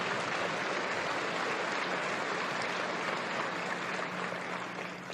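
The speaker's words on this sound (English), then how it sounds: "Give them a lot of applause, because they don't get much else for it." Sustained applause from a large audience at the 1997 Berkshire Hathaway annual meeting, a dense even wash of clapping that carries on throughout and eases slightly at the end.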